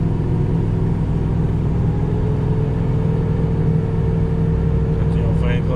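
A Ford F350 pickup truck engine with a loud, worn fan clutch, a steady low rumble under a droning whir that holds constant at close range.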